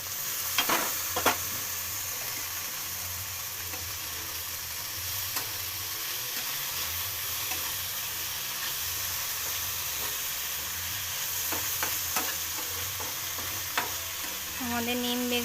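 Neem leaves and eggplant frying in a pan give a steady, loud, close sizzle, with occasional sharp ticks and scrapes from stirring and no talk over it.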